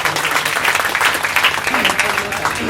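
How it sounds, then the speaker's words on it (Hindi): Audience applause for a poet and wrestler at a Hindi kavi sammelan, brief dense clapping from a crowd heard under a speaking voice. "एक बार जोरदार ताली से आप लोग सम्मान करें।"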